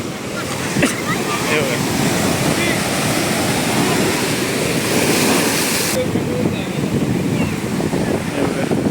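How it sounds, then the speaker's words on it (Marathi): High ocean waves crash and churn at Ganpatipule beach in a loud, continuous roar with gusty wind buffeting the microphone and faint voices mixed underneath. "हे बघा किती उंच लाटा मारतात"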